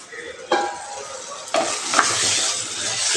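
Tomatoes frying in a pan for a spicy dried-fish thokku, a steady close sizzle with a few sharp utensil clinks and stirring scrapes, no talking.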